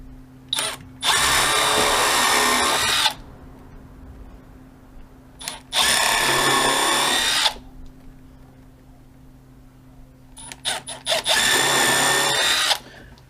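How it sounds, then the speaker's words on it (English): A power drill drives countersunk screws into decking wood, three long whirring bursts of a couple of seconds each, loud and close, with short clicks and handling noise in the gaps. "let's get this thing countersunk into place then."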